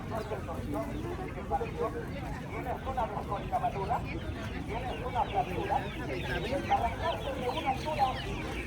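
Chickens cluck and chatter steadily among the poultry stalls of a busy market day in Tlaxiaco, in Oaxaca's Mixteca region, with birds calling over a crowd murmur while people talk nearby.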